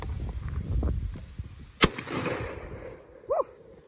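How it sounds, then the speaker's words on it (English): A single sharp gunshot rings out from a gun loaded with buckshot, a sudden crack standing out against outdoor rumble and background noise, followed by a faint short yelp a moment later. "So we're gonna load it up with buckshot right now and see how it kicks"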